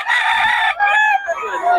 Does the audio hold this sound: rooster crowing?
yes